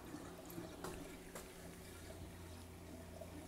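Return pump of a 20-gallon aquarium with a simple overflow and sump, water steadily circulating and trickling in a continuous close wash with a low hum beneath, no talking.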